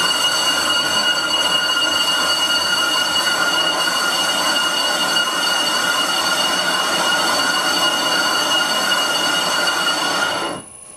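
A 100-year-old bench lathe machining a brake disc, a steady loud metallic whine with high tonal ringing that cuts off abruptly near the end as it stalls.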